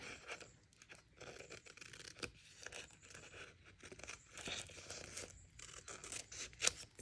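Scissors cutting paper pieces for a card-making craft kit, a faint, close series of irregular snips and crisp paper rustles.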